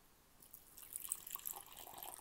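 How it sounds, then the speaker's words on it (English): Water is poured in a faint trickle to top up a tarantula's water dish, a soft splashing and dribbling that starts halfway through and stays quiet and close, with no talk. "top the water dish up"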